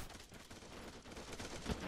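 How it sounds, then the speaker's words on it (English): Rapid, dense gunfire rattles in a military video game, bursts overlapping into a continuous crackle with a sharp louder shot near the end, with no speech over it. "What is all that gunfire?"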